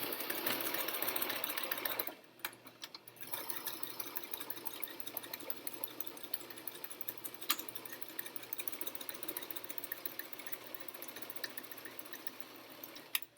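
A sewing machine stitches fabric for a pee pad, running steadily and fairly softly at close range, with a short pause near the start before the stitching resumes and continues to the end.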